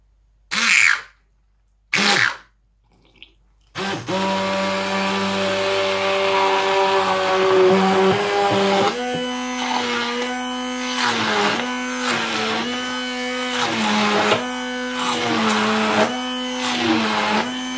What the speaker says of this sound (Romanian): Iar acum le voi blendui cu un blender